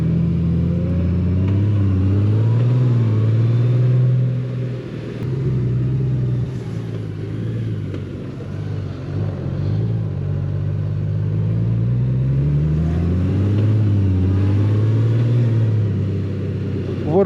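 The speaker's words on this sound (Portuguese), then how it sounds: "O barulho desta moto é espetacular." A motor vehicle engine rumbles steadily and close by, rising and falling as it revs, with occasional voices mixed in.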